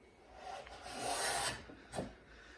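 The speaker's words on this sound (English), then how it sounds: "that's the fiber breaking out on the end" A rasp shaping the outer edge of a wooden seat makes soft, close scraping and rubbing strokes, swelling in a long pass and then a short sharp one as wood fibers break out at the end.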